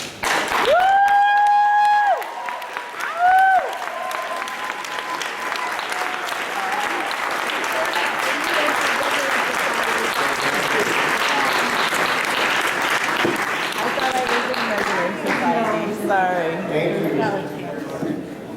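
A large ceremony crowd gives a long, loud ovation for transferring community college students, sustained clapping and cheering filling the hall after a few opening musical tones, with voices mixed into the din.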